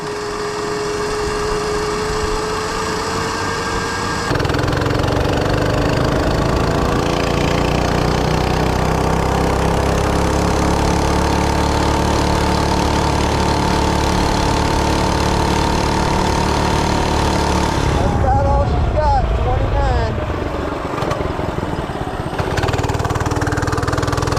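Oryxearth 105cc gas mini bike engine revving hard and accelerating, a loud steady motor drone rising in pitch for most of the run before cutting and wobbling near the end, with no talking over it.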